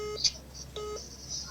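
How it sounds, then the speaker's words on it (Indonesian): Short electronic telephone line tones sound when a call is answered during a live Islamic lecture broadcast. Two brief steady beeps, about a second apart, sit faintly over quiet room noise, with a thin high chirp between them. "kita angkat telepon di sini"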